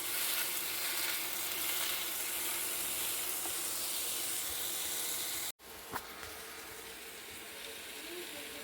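A pancake sizzles and fries on a pan over high heat, a steady broadband hiss with a brief break midway before the frying resumes just as strongly.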